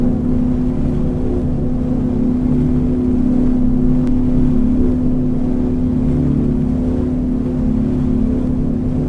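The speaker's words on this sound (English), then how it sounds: "gears going up" Douglas DC-3/C-47 in X-Plane 11 climbing after takeoff as its landing gear retracts, a steady droning piston-engine hum with a constant mechanical whir throughout, no voices.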